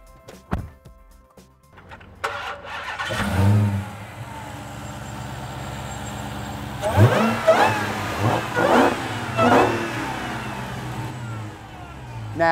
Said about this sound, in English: How about you start it up for us? Let's hear what this Charger sounds like.